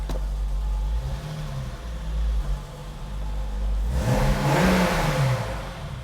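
A BMW E30 Alpina B3 2.7 engine idles steadily, then revs up sharply near the end in a loud, close burst before settling back, with no talking.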